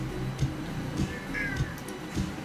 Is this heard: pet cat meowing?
yes